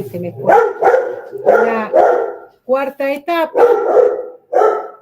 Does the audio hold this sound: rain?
no